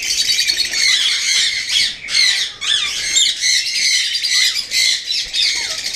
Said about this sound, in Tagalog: So naa diri karon mga Indian ringneck no. Indian ringneck og doon na nakagawas African lovebirds.